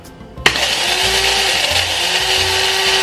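A coffee grinder starts abruptly and whirs continuously for several seconds as it grinds three scoops of coffee beans for cold brew, loud and close with a steady grinding roar.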